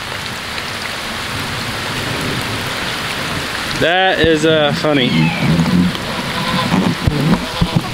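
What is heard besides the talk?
rain falling on a farm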